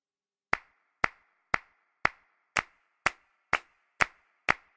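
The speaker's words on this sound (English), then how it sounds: "Hand clapping." Nine sharp hand claps ring out alone at a steady, even pace, each a crisp isolated snap with a brief decay, played as a percussion demonstration.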